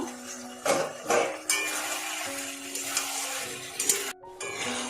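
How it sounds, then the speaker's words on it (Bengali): A pot lid is lifted and set down after a ridge gourd, potato and fish curry has simmered covered, giving a few metallic clinks and scrapes over a steady sizzling, hissing background, close and moderately loud. "আমি ঢাকনাটা খুলবো।"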